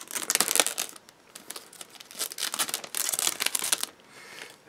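Cellophane wrapping from a Meng P-51D Mustang 1:48 model kit crinkles sharply as it is pulled off, in close, irregular bursts of rustling with brief pauses between.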